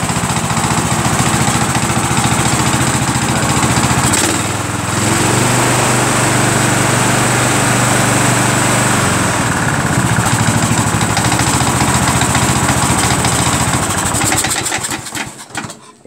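A ride-on lawn mower engine, restarted after two years idle, runs steadily and loudly up close for most of the time, with a slight dip partway through, then sputters and cuts out at the end.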